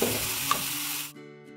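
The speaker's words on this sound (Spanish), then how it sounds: "Aquí agregamos también lo que es el chorrito de vinagre, para darle un sabor especial." Onion and garlic frying in a pan give a steady broadband sizzle as a splash of alcohol vinegar goes in, the hiss dropping away abruptly near the end, leaving a quieter low hum.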